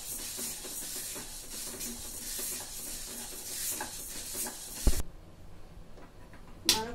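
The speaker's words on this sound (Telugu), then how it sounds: "ముందుగా మినపప్పుని బ్రౌన్ కలర్ వచ్చే వరకు వేయించుకోవాలి." Urad dal stir-fried dry in a pan until brown for sweet laddus, giving a soft, continuous hiss and scraping rustle, faint and close, broken by a couple of sharper knocks from the pan.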